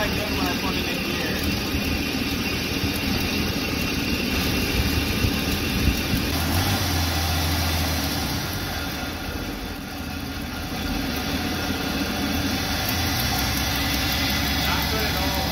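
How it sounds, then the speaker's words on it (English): A Jeep XJ engine, rebuilt and running rough once put in gear, idles with a steady low mechanical hum and a faint high whine, and the note dips slightly partway through; someone talks over it. "Still not that good when I put it in gear."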